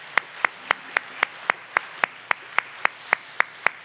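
A church congregation claps in steady rhythm, single sharp claps evenly spaced about three per second, loud and close, with no talking.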